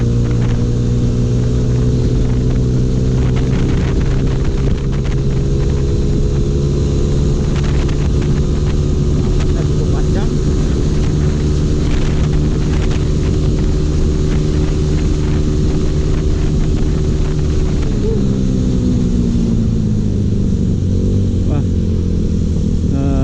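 A motorcycle fitted with a dB killer exhaust runs at full throttle, its engine a loud, sustained drone whose pitch climbs steadily, dipping briefly near the end before rising again.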